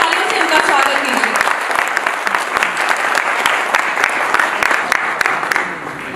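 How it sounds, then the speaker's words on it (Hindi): Loud, sustained applause from a seated audience welcoming a guest at a national summit program in Delhi, dense clapping throughout with a crowd voice or two mixed in. "एक बार जोरदार तालियों से उनका स्वागत कीजिए"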